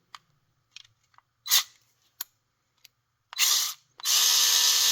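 A Ryobi multi-head power screwdriver unscrews a nut in short bursts: brief clicks and whirs, then a couple of longer motor runs, the last one continuing to the end, with no talking.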